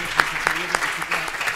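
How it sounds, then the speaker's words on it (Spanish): An audience claps at a gastronomy medal award ceremony, steady close applause with individual sharp claps standing out, continuing throughout. "un aplauso y continuamos."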